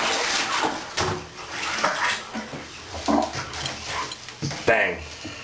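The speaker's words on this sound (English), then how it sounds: "I'm going to go ahead and dump it's about 2 gallons of water into the tub." About two gallons of water are dumped into a bathtub, producing uneven splashing and pouring bursts that rise and fall, with a person talking over it and a dog whimpering nearby.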